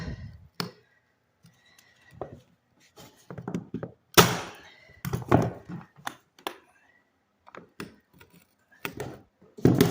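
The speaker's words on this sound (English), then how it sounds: "I'm using the knee thing, stapling the carpet" Thumps and sharp staple shots from a carpet knee kicker and stapler while carpet is fitted on a spiral staircase in a historic New York renovation, coming in irregular close bursts with quiet gaps between.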